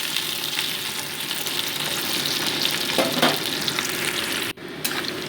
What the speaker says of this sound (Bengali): আলুগুলো মোটামুটি 2 মিনিট ধরে ভেজে নিচ্ছি।